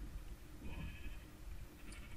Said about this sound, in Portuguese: Ah, tem uma ovelha. Tem três ovelhas,